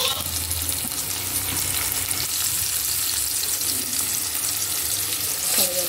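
Onion and green chillies for a cauliflower dish fry in a pan with a dense, steady, watery sizzle that stays close and even, broken by a brief clatter near the end.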